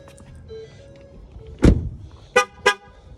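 Three short horn honks from a 2019 Ford Flex, one then two close together, sounding as the key is carried away, over a quiet outdoor background with faint mechanical hum.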